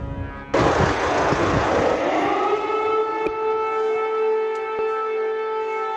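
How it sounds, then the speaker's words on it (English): A loud air raid siren over Kyiv wails steadily during the war, its long rising tone holding and sustaining throughout, with a few sharp distant cracks underneath. "An air raid siren over Kyiv."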